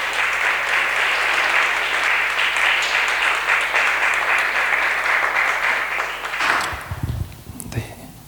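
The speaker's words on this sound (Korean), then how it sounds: "모두 박수로 환영해 주십시오." A church congregation gives sustained applause to welcome a visiting pastor at a Sunday service, loud and dense for about six seconds before fading out into scattered room noise and movement.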